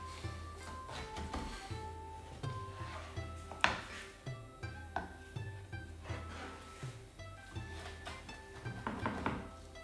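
Knife or spatula chopping through layered Hiroshima-style okonomiyaki of cabbage, bacon and noodles, a series of distinct close thunks and taps on a hard surface, evenly spaced and fairly quiet.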